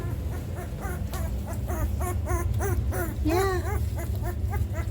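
Bernese mountain dog puppies whimper and yip in a string of short, high, wavering cries, close by and fairly loud, over a low steady hum of background noise.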